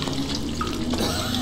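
Water gushes steadily from a washing machine in the video game Among the Sleep, a continuous close, full-bodied rush like a running tap, with no voices.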